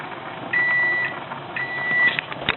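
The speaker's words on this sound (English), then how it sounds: "Once the timer has appeared to go off, it is time to turn off our amazing dish and strain it." A kitchen timer beeps in two long, steady electronic tones while a broccoli stem dish cooks, with a few short chirps trailing at the end over quiet room noise.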